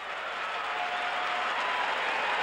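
A dense, steady roar of crowd cheering and applause fills a college baseball stadium after a home run in the 1977 South Carolina vs Arizona State game, loud and continuous with no break.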